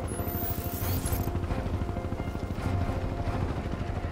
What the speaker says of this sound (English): Helicopter out there, chop or whatever it is.